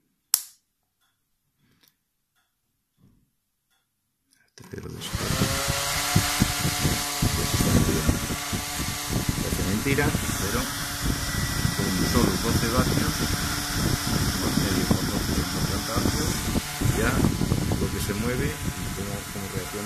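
An electric turbo fan motor on a control board switches on after a sharp click and near silence, then runs as a loud, steady whir with a continuous high whine and a low, buzzing motor drone.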